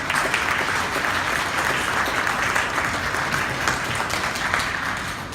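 Audience at a Singapore Tamil theatre archive event applauding with steady, dense clapping that holds at full volume for several seconds and then eases slightly.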